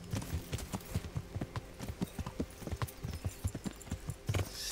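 Horse hooves clopping steadily along a path in the medieval game Kingdom Come: Deliverance, a brisk, even rhythm of close, crisp hoofbeats with no talking.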